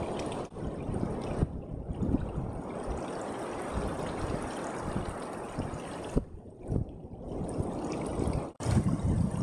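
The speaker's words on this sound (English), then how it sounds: "water drains out of the sand and through the rocks in the beach groins, creating small waterfalls and pools of seawater" Seawater drains out of sand and trickles through the rocks of beach groynes in small waterfalls into pools, a continuous soft gurgling and splashing close by, with a few brief dips.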